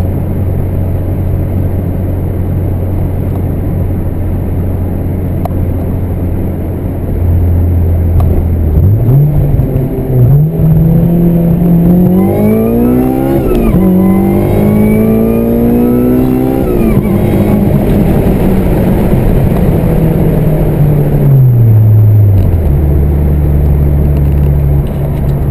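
An 8th-generation Honda Civic Si on a Hondata tune, driven at full throttle with no-lift shifts: the engine note climbs steadily, drops sharply at each gear change, then climbs again. It sounds loud and close, with no talk.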